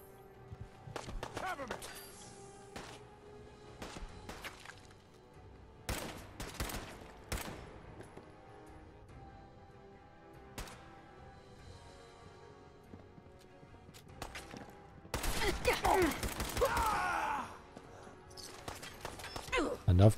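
Gunfire in the video game Fallout 4, scattered single shots and short bursts at varying loudness with a dense, loud volley near the end, over quiet game ambience with occasional talking.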